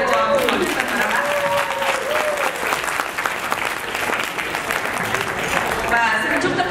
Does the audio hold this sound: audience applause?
yes